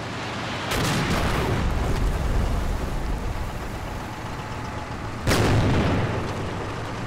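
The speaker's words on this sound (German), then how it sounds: "Da ging der zweite Schuss drüber." Tank guns fire in the video game Combat Mission Final Blitzkrieg during a World War II battle for Wiltz: two heavy booms about four and a half seconds apart, each trailing off into a long rumbling roar, with no talking.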